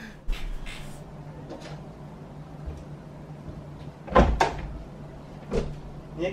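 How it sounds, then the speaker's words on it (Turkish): A door shuts with a sharp thud and rattle against quiet room noise, preceded and followed by scattered softer knocks and handling sounds, fairly close. "Niye kapadın kapıyı?"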